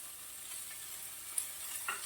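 A small handful of curry leaves fry in oil for gobi fry, making a faint, even sizzle with two brief sharp pops near the end, and no voices.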